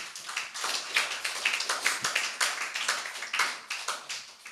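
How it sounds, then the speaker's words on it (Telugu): A church congregation at a Sunday service claps hands together, a dense run of rapid, steady claps from many people that carries on through the whole stretch. "ఓసారి చప్పట్లు కొట్టి ప్రభునామాన్ని మహిమపరచండి"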